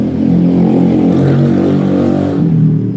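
Honda Vario scooter engine idling while cold and sputtering, a loud close steady hum with a low rumbling pulse and no talk.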